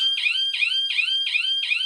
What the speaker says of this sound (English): the alarm plays.